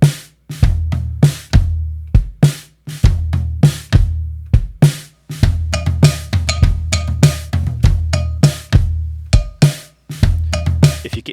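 A drum kit captured with room microphones, punchy kick, snare and cymbal hits in a steady groove with natural room ambience ringing after each strike.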